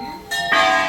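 A large temple bell at Golu Devta temple in Chitai, Almora, rings with a bright metallic clang, then a second stronger strike whose sustained tones keep sounding.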